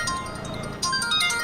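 A phone rings with a bright electronic ringtone melody, fairly faint and short, repeating a tonal pattern that gets a bit louder partway through.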